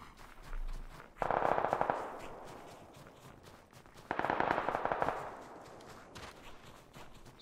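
Suppressed G36 rifle fired in PUBG: two rapid automatic bursts of muffled, crackling shots, each about a second long, with quieter game ambience between them.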